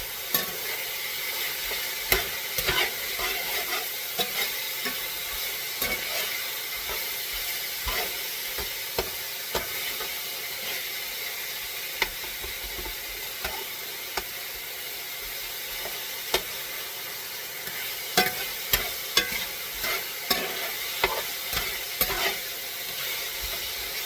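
Pork pieces fry in a pan for sticky pork, giving a constant loud sizzle and crackle with scattered spatula scrapes and pops throughout.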